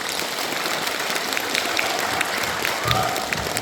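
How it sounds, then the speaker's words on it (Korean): Steady applause fills a hall at a senior citizens' association job-participant launch ceremony in Naechon-myeon, Hongcheon, with dense, even clapping from the crowd sustained throughout. "박수 한번 부탁드립니다"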